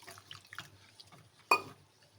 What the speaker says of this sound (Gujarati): હવે એને પાણીથી સારી રીતે ધોઈ લેવાનો છે.